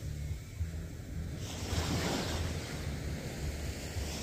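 Ocean surf washes ashore at Haeundae beach on a winter day, a continuous loud rush of breaking waves swelling midway, with gusty wind buffeting the microphone.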